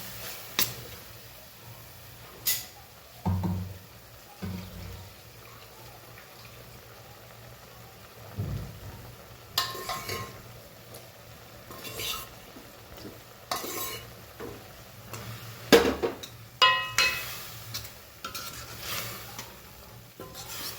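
A spoon scrapes and stirs food in a pan in intermittent bursts, with soft sizzling and clinks of utensils between quiet pauses.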